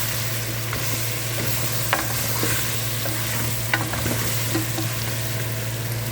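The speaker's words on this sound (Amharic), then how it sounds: "አሁን አንድ ተጠብሶ ሽታዋ እንዲጠፋ ሳልሳውን ጨምር" Salsa frying in a hot pan, a steady close sizzle running throughout with a few sharp scrapes and clicks of stirring poking through.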